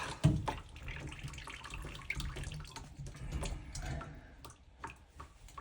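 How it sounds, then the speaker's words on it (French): Water drains out of a pipe in a home in Yoichi, Hokkaido, making a steady close splashing flow with small ticks and drips throughout, moderately loud and continuous. "regarde, l'eau sort maintenant de l'autre"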